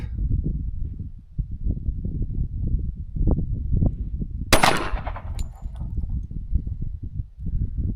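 A Kimber 1911 .45 ACP pistol fires a single sharp, loud shot at close range outdoors, rising abruptly over a steady rumble of wind.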